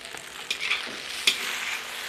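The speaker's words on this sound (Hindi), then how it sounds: "ये जो है अब इसको हमने थोड़ा फ्राई करते रहना है" Cabbage, capsicum and green onion stir-fried with chicken pasta over high flame: a steady close sizzle with a few light scraping stirs and clinks, no voices.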